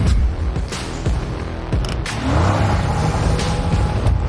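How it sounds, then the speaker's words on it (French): Mercedes-AMG Project One hypercar pulling out of its pit stand in electric mode, a loud continuous mechanical whine and rolling drive noise with rising tone, close by and steady throughout. "La voiture sort de son stand en mode électrique."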